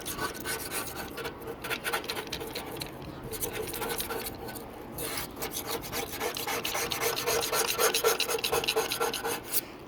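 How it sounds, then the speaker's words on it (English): Razor blade scraper rasping old gasket material off a motor on a service call, a continuous gritty scratching with rapid repeated strokes, close and loud, sometimes under faint talk. "Get the old gasket material off."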